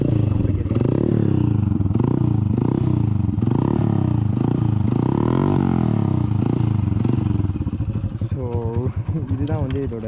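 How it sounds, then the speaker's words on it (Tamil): A modified Hero Splendor motorcycle fitted with an SC Project exhaust and a DB killer idles loudly and steadily up close, its burbling note rising into revs toward the end. "இந்த எக்ஸாஸ்ட் நோட்டை கேட்குறீங்களா எப்படி இருக்குது அப்படின்றத"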